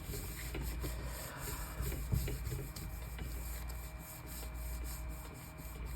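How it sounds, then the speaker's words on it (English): A brush or sponge rubs paint through a stencil with tiny holes, giving a soft, continuous scrubbing and rasping texture. The strokes are close and fairly steady, with no voice over them. "I really have to make sure I rub in all those little spaces"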